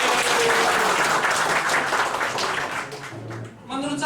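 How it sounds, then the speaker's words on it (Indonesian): Loud, dense applause from an audience at an insurance company seminar, filling the space for a few seconds before fading as a voice comes in over the tail. "Tepuk tangan buat Prudential."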